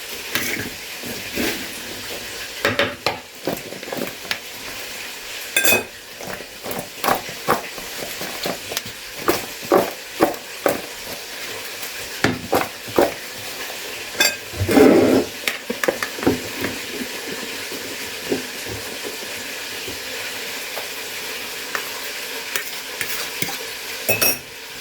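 A spoon stirs pomegranate sauce with lemon juice for KFC-style chicken wings, giving irregular scraping clicks and taps over a steady low frying hiss, with a louder burst of stirring midway.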